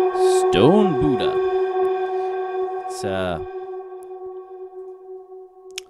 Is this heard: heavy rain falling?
no